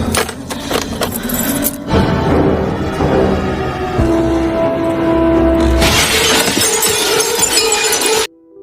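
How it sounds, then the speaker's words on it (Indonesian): A glass window smashed in a movie scene, a loud crash and shatter followed by tinkling shards and a sustained ringing, busy background layers, ending in abrupt silence. "Cole menjebol kaca dan melompat ke basement"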